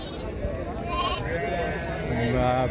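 Sheep at a busy livestock market bleat in wavering, overlapping calls at mid distance, heard under steady crowd chatter and talk nearby.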